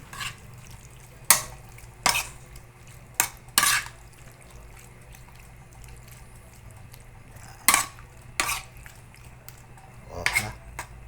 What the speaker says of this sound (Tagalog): Haluin natin yan.